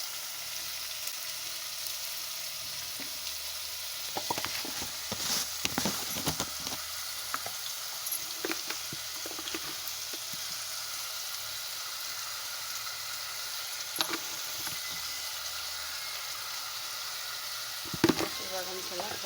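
Onions and tomatoes frying in a pan for tomato rice, a steady low hiss of oil with scattered crackles and occasional spoon scrapes, soft and close.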